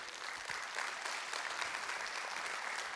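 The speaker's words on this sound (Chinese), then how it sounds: "我们给立威一个热烈掌声" An audience at a Riway company event claps warmly, a dense, steady round of applause filling the room from start to finish.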